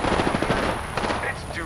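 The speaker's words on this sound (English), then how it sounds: "Opening fire." RE-45 pistol firing in the video game Apex Legends, a dense rapid burst of automatic shots that fills the short stretch, loud and close with no clear pauses.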